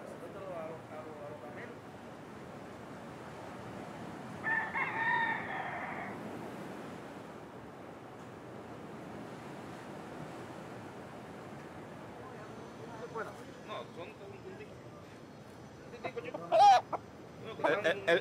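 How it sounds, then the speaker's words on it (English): Roosters on the Malecón seafront in Baracoa, Cuba, give a loud crow partway through and some clucks near the end, heard over a faint outdoor background. "the strange sight of some cocks dancing about catches my attention"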